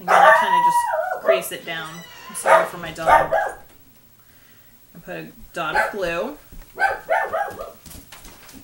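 A dog barks several times in the background of a room while a person talks steadily over it, the barks mixed in with the speech rather than heard alone.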